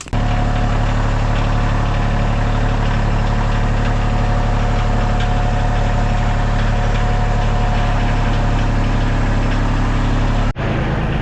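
A loud, steady tractor engine idles close by with a deep continuous rumble, cutting off abruptly near the end.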